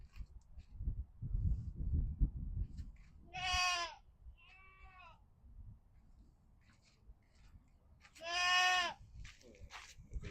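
A male goat bleats twice, loud, drawn-out wavering calls a few seconds apart, with a softer bleat between them and low rustling and handling noise on a farm.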